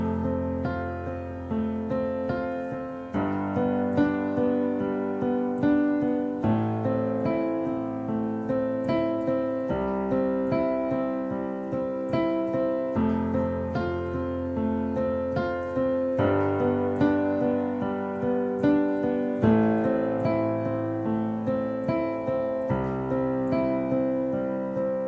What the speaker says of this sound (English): With arpeggiation, it will sound like this.